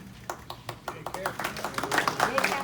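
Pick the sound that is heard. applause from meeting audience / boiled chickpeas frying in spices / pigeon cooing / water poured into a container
applause from meeting audience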